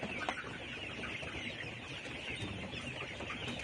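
Layer hens at a poultry farm clucking together, a dense overlapping chorus of soft clucks and murmurs, moderately close and continuous with no talking.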